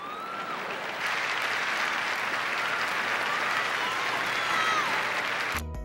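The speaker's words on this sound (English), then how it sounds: "The crowd erupted." A crowd bursts into loud, sustained applause with a few whistles, the clapping swelling after a moment and holding steady before stopping abruptly.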